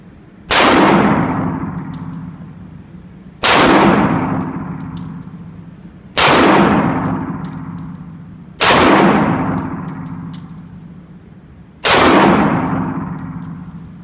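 Five loud, evenly spaced Glock pistol shots fired at a target from about 7 yards outdoors, each a sharp blast followed by a long ringing, echoing decay, with roughly three seconds between shots.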